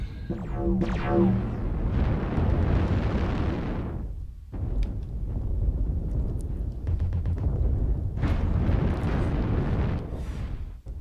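Heavy explosions and blasts in a mech combat video game, a big boom near the start followed by sustained loud rumbling detonations that fade briefly then roar up again near the end.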